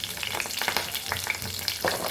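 Cumin and mustard seeds frying in hot oil in a pan, giving a steady close crackling sizzle with scattered tiny pops throughout.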